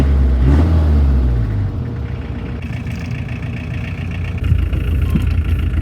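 A Chevrolet Chevette engine runs steadily close by after being revived, a loud, continuous low rumble with a slight rise in revs toward the end, heard alone.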